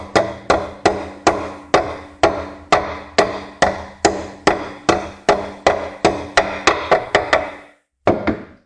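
Repeated hammer blows drive a bearing into the rear suspension arm of a Citroen C5, about twenty sharp, evenly spaced knocks at close range, then a brief pause and a couple more strikes.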